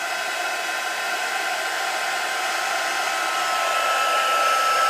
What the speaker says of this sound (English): So your next thing you need is your heat gun.